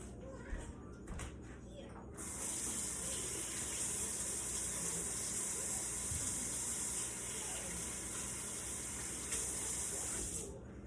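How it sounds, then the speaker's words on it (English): A kitchen tap runs steadily for several seconds while hands are washed beneath it, giving a constant close hiss of water that starts abruptly after a few faint clunks and stops near the end. "And then I am going to wash my hands really quick."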